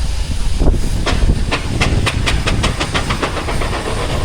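Steady loud hiss of steam venting from an Aveling Porter traction engine at a steam rally arena, with a rhythmic series of short puffs or clanks repeating through the middle, heard alone at close range.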